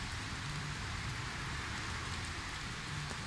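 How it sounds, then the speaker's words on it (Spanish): Heavy torrential rain pours down steadily in Ibagué, Tolima, Colombia, a dense continuous roar of water with no pauses and no voices. "Llueve en nuestra ciudad musical de Colombia."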